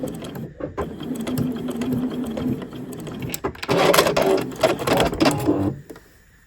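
A sewing machine runs a back stitch on fabric for a small charm bracelet, its needle clattering in a quick mechanical rhythm that speeds up toward the end before stopping.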